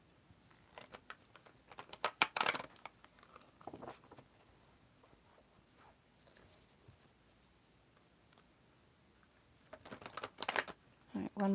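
Tarot cards are shuffled during a reading, with soft irregular riffling and pattering bursts, close by and fairly quiet, with gaps of near silence between them.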